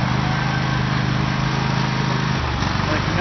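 A repaired tractor engine runs at a steady, close, buzzing rhythm, then its pulsing shifts slightly toward the end.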